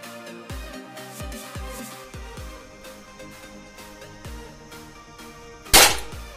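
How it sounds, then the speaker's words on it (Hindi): A homemade mini gun built from a geometry compass fires once near the end with a single sharp, loud crack, after a stretch of quieter rhythmic background tones. "तो अभी हम दूसरा जो कंपास वाली हमारी गन है वो ट्राई कर लेते हैं"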